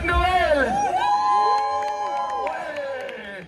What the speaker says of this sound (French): Continuez à m'applaudir pendant que je descends du truc là.